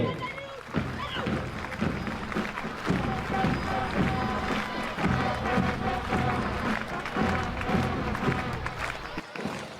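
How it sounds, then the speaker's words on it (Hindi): Crowd applause and cheering at a Republic Day parade ground as a girls' school NCC contingent marches past, dense steady clapping mixed with crowd noise and voices throughout. "तालियां बजती रहना चाहिए।"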